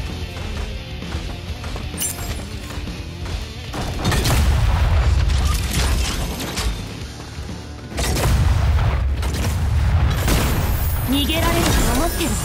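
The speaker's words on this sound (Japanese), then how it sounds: "銃声よ。" Gunfire and explosive booms from the mecha battle game Super Mecha Champions, loud bursts and heavy thuds rolling through the match alongside game music and voice lines.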